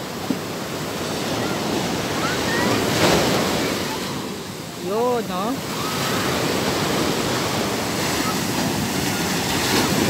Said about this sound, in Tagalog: mahampas talaga ang alon mga kablandi oh nag high tide na yun ano?